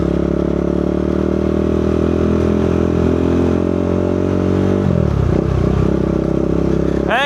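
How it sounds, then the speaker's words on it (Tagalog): Motorcycles idling and running before a long group ride, a loud steady engine drone close by that shifts and roughens near the end with a brief rising rev. "tetestingin namin yung mga motor namin"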